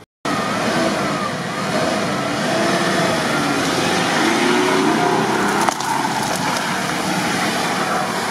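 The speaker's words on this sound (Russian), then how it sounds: "Он стартером крутит, а у него колеса все крутятся." Off-road UAZ stuck in a swamp, engine running with a steady rough rumble and strain as the wheels spin, continuous and fairly close with no pauses.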